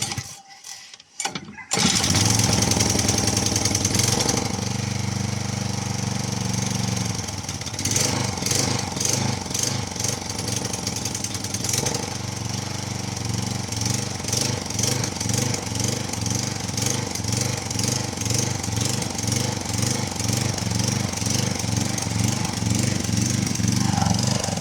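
An Agria lawn mower engine starts after a brief pull and settles into a loud, steady chugging run close by, with uneven pulsing in the rhythm and no voices over it.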